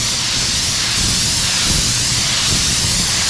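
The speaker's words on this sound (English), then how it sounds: "We're just gonna fog a little paint on there at first." A spray gun lightly fogs paint onto an old truck, a steady, loud broadband hiss that holds continuously for a few seconds with no talk over it.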